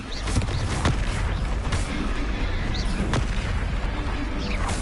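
Confringo spell explosions in the Hogwarts Legacy video game, with loud booming blasts and crackling bursts over a dense, continuous battle din.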